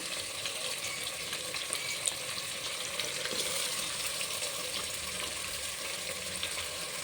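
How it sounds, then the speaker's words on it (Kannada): Eggplant frying in a pan gives off a steady, dense sizzle that holds evenly throughout, close and fairly loud, with faint stirring crackles and no voices. "ಇದೆಲ್ಲ ನೀಟಾಗಿ ಫ್ರೈ ಮಾಡಿಕೊಂಡು 10 ನಿಮಿಷ ಬಿಟ್ಟು"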